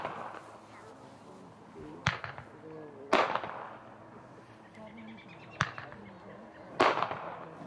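Fireworks pop in four sharp, loud bursts a second or two apart, each trailing off in crackle and echo, with faint voices and a low ambient murmur between them.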